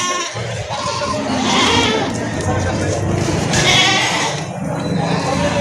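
Goats bleating at a busy livestock market in Padre Garcia, Batangas, a few calls rising over constant crowd chatter and someone talking nearby.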